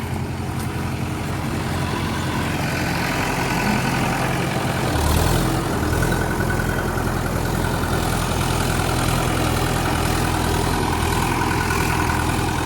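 A heavy tractor engine running around 1400 rpm in a field rumbles at a steady, loud level throughout, with a brief surge partway through before settling back.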